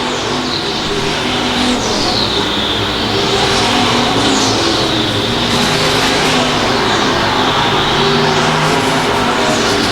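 USRA stock cars and sport modifieds roar around I-35 Speedway under green-flag racing, loud engines droning continuously with repeated swelling and fading passes as cars sweep by close to the listener.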